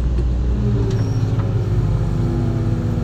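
A Hitachi ZX200-3 excavator with a low-power fault idles in a steady, close diesel rumble that wavers slightly, the engine sounding strained and unsteady throughout.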